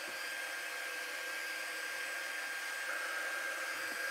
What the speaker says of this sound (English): If you blow it with the heating tool,